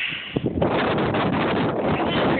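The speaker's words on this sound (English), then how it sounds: "Awfully windy out here." Strong wind in a snowstorm batters the microphone outdoors, a loud, dense rushing roar that rises after a few brief thumps and then holds steady.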